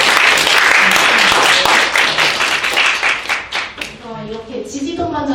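Audience at a results presentation breaks into a burst of loud, dense clapping that fades after a few seconds, followed by someone speaking.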